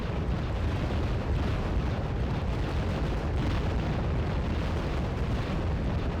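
Artillery fire and explosions in the real-time strategy game Red Dragon, a dense continuous roar of overlapping blasts and rumbling booms, loud and unbroken throughout with no talk.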